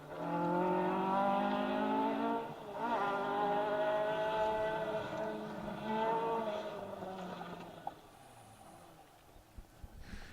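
An Escort rally car is driving a rally stage. Its engine note rises and falls through several revving passes, then fades to a faint background.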